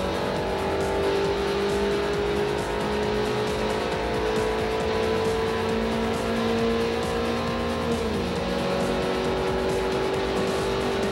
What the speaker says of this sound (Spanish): ejecutar una habilidad de quemada, trata de girar el coche en el sitio dando sobre el asfalto.